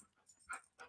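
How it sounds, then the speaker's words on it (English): A loud dog panting and huffing close by, with soft breathy puffs and a couple of stronger exhalations in quick succession, no talking. "that's a loud dog"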